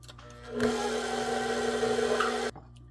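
An electric hand mixer runs on its lowest speed, blending flour into pound cake batter with a steady whirring motor hum that starts abruptly, holds even for about two seconds and then cuts off, close and loud.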